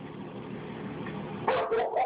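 A dog barks several times in quick succession near the end, loud and close, after a stretch of low indoor background noise.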